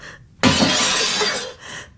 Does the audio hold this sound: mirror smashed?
yes